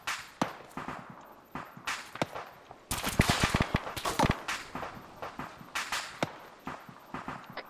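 Gunfire in the military shooter ArmA 3, with sharp individual shots and short bursts cracking out irregularly over a dense background, loud and fairly close, a heavier cluster of rapid shots in the middle.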